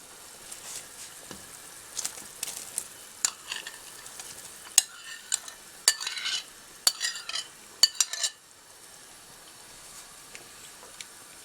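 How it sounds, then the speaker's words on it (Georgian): A spoon stirs meat and onions frying in a pot, with soft scrapes and clinks against the metal in a steady run over a quiet sizzle, then fading to a low hiss near the end; no talking. "იმიტომ ხორცთან ერთად ეხლა უნდა ხახვიც ჩავყაროთ."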